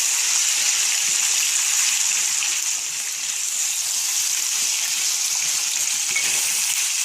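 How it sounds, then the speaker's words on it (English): Steady, continuous sizzling of potatoes frying in oil in a skillet, loud and close, with a soft bubbling crackle throughout and no voices. "French frying a little bit"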